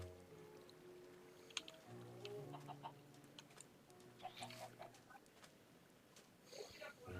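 Faint, scattered clucks from a few video game chickens amid low background noise and occasional clicks, quiet and somewhat distant.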